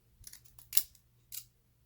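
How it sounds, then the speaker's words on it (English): Decorative craft scissors with ridged blades snipping for wax seal making, a few quick, crisp close cuts: small ticks, then two louder sharp snips spaced about half a second apart. "18 different scissors."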